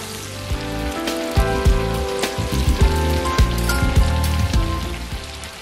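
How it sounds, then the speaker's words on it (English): Chicken tenders fry in hot grease with a dense, close crackle and irregular loud pops over a steady low hum. "You want to hear that chicken frying"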